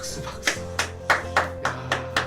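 Clapping at a Korean children's winter Bible school, about seven crisp, evenly spaced claps over a steady tonal background, moderately loud and close.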